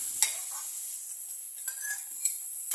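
Jackfruit seeds dry-roasting in a hot pan, stirred in a few separate scraping strokes with light rattling and faint sizzle between them, fairly quiet and without talk.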